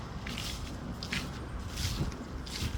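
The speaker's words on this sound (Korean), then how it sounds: "제가 지금 은행잎을 밟고 걸어가는 거예요" Footsteps crunching through piles of fallen ginkgo leaves on a street, a steady walking rhythm of soft rustles and crunches, with low traffic rumble underneath.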